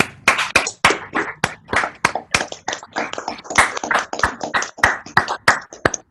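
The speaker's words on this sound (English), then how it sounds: "express your thanks to John by giving him a round of applause" A round of applause from participants in an online book-launch meeting: many separate, uneven claps come in a steady patter, close and moderately loud, with no talking over them.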